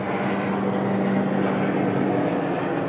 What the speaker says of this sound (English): Every time this camera goes on, there's planes.